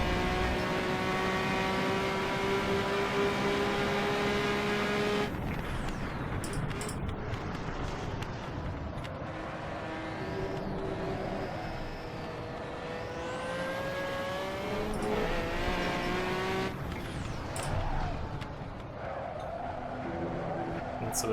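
A turbocharged race car in Assetto Corsa's turbopanzer revs hard through the gears, its engine pitch climbing and dropping sharply with gear changes and brief squeals through corners, loud and close throughout.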